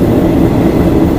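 A train on Thailand's Death Railway through the jungle picks up speed, a loud, dense, steady low rumble heard from on board, with no talking.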